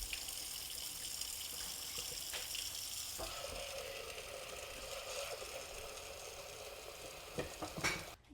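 Pigeon peas (tuver) being rinsed and stirred in water in a home kitchen, a steady close swishing and splashing that runs throughout, with a few sharper clatters near the end.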